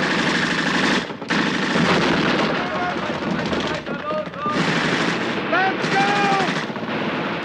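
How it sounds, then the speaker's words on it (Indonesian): War film battle with grenades and gunfire against German troops, loud bursts of automatic fire and explosions layered under a voice narrating over the scene, with brief pauses between volleys. "Joe lebih dulu memulai pertempuran dengan melemparkan granatnya, disusul oleh pasukan yang melesatkan serangan"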